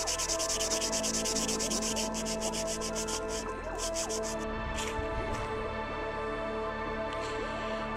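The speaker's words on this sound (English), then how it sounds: "Ted, there's nothing funny about the way I'm sanding this ruler" An old metal set square ruler is sanded by hand in steady, rapid back-and-forth rasping strokes, close and distinct, over a constant low hum, with the strokes stopping for a moment before resuming.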